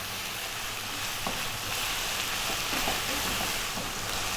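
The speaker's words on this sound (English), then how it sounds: "We're going to go for 4 minutes, stirring pretty much all of the time now." Thai red curry paste with beef sizzles and fries in a pan over above-medium heat, a steady dense crackle with faint scraping from constant stirring, close and continuous with no talk.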